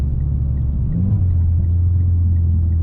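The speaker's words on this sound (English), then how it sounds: "Do a little disappointing pull in the stock Evo." A stock Mitsubishi Evo X accelerates with a steady, loud low engine rumble heard from inside the car, with the tone rising slightly partway through the pull and no talk.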